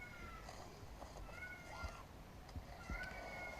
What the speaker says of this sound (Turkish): Kediyi görmeniz lazım şu an. Çığlıklar gibi oluyor